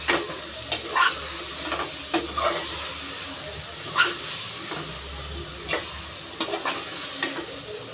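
Mint, coriander and curry leaves being stirred into mushroom biryani masala over low heat, a soft continuous sizzle with repeated clinking spoon strokes against the pan, close and unvoiced.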